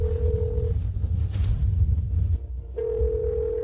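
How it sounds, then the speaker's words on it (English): A telephone sounds a steady electronic ringing tone that breaks off briefly and then resumes, over a low background rumble. "Tong Tong, quick, answer the phone."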